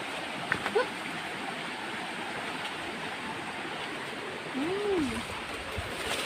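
Fast-flowing stream water rushes steadily at a durian orchard in Chaiyaphum, a continuous broadband hiss close by, with a couple of brief faint knocks near the start and a short louder swell toward the end.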